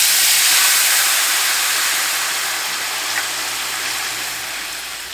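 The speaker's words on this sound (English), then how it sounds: "And so now we are going to deglaze." A homestead kitchen pan sizzles loudly and steadily as alcohol is poured in to deglaze it, a broad steamy hiss that slowly fades over several seconds with no talking.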